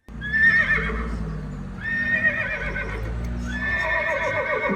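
A horse neighs three times in a row from a Zeekr 7X's exterior speaker, each whinny loud and shrill, with brief pauses between.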